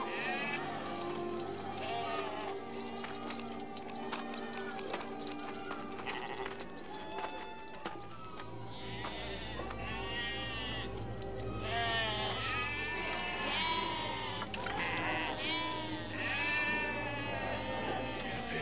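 Sheep bleating in a pen at shearing time, several overlapping wavering cries coming close and loud in repeated bursts over a busy background, with people talking at points.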